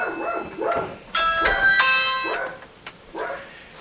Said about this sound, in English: You hear my dog barking and my ring just went off?